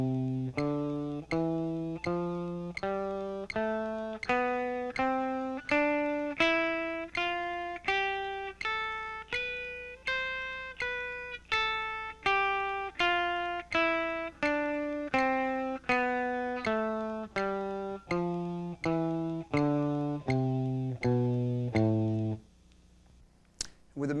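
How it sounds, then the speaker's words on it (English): Set to a metronome at 80, a rock guitar plays a long scale pattern up and down, one distorted note per beat in a steady, unhurried pulse, close and clear throughout. "With the metronome set at 80,"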